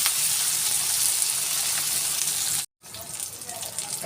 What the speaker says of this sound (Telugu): పచ్చిమిర్చి వేగుతున్నాయి కదండి